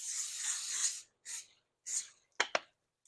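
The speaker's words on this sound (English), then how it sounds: "I'm taking a little bit of spray" Cooking spray hisses from a can onto a baking pan in several short bursts, one long followed by two briefer sprays, close and fairly quiet, then two sharp clicks.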